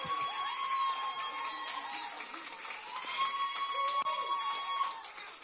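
Audience applause and cheering at an accelerator demo day, a steady crowd clapping with scattered shouts, moderately distant and continuous throughout.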